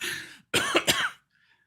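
Two or three harsh coughs close to a blue microphone in a podcast studio, a short burst, a pause, then a tight cluster of loud barks before silence.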